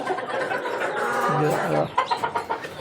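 Native hill-breed hens clucking close by on a poultry farm, short rhythmic clucks building into a burst near the end, with some overlapping bird calls.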